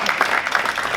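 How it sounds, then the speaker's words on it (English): A short burst of audience applause, dense and loud clapping from many hands, heard close for about a second. "round of applause for that"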